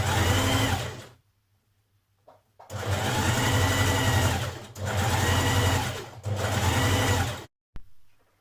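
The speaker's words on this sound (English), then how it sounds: "stitch around your pocket pieces" A domestic sewing machine runs in three long bursts of steady, fairly loud stitching around the pocket pieces of a Burda 6222 dress, with brief pauses between runs and a short quiet gap near the start.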